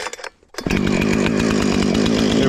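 Husqvarna chainsaw starting up after a brief pause, then running loud and steady at high revs close by, a continuous buzzing two-stroke drone with no talk.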